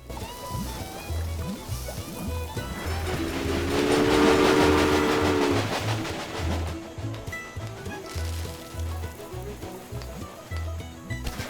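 A train running on rails in the Railway Empire railroad game: a steady rhythmic clatter of wheels over track joints with a rolling rumble, swelling louder mid-clip as a long tonal whistle or horn sounds, then continuing at an even pace.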